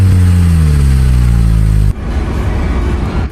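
A car engine revs with a steady, falling drone as the vehicle pulls away, loud and close, then cuts abruptly to a rougher, noisier rumble for the last second or so.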